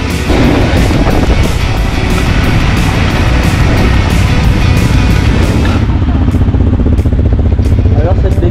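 A trail motorcycle engine runs steadily and close by, a smooth continuous drone with wind rush throughout, easing slightly near the end.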